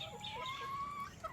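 Chickens clucking close by on a farm early in the morning, with a drawn-out cluck rising over low outdoor background noise.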